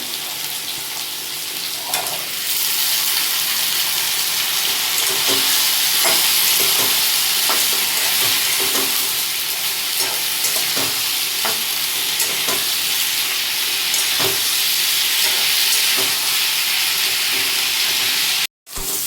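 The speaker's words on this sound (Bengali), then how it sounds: "পেঁয়াজগুলোকে হালকা লাল করে ভাজছি। এবার এর মধ্যে দিয়ে দেবো কেটে রাখা আলুগুলো।" Onions and potatoes fry loudly in a pan with a constant, close sizzle and frequent stirring clinks and scrapes, running steadily until an abrupt cut near the end.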